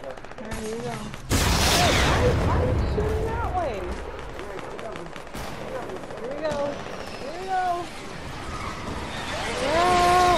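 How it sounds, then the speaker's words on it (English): Fortnite gameplay gunfire crackles in rapid bursts through a busy, loud mix, with shouting voices, game effects and tonal sounds layered over the shots. "Why are you shooting that way?"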